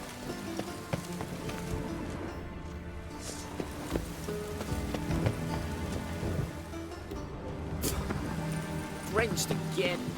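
Steady rainfall pattering on surfaces in The Witcher 3: Wild Hunt, a dense continuous wash with scattered drop hits, layered under game dialogue and ambient background sounds.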